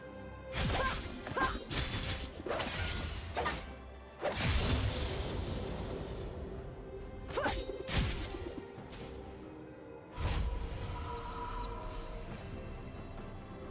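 A turret being destroyed in League of Legends: several heavy crashes and shattering impacts with whooshes, spaced a few seconds apart, each loud and then decaying, with no talking.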